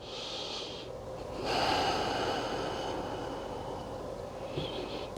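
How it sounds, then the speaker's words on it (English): Deep, slow breaths during a slow-flow yoga stretch, a long audible exhale swelling in the middle, with softer inhales at the start and end. Close and quiet, no talking. "Taking a round of breath here."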